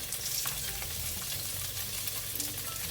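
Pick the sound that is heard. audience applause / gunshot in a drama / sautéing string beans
sautéing string beans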